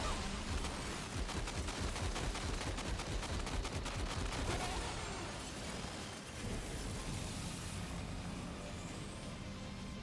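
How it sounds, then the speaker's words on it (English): Machine gun fire in Death Stranding 2, rapid bursts of shots crackling densely through the first half and then thinning into a rumbling background, loud and close with no voices. "we can probably just use the machine gun without fear"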